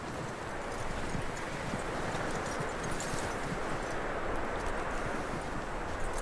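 Horse hooves clip-clop steadily throughout in Red Dead Redemption 2, a continuous trotting rhythm set against a dense, rustling outdoor background.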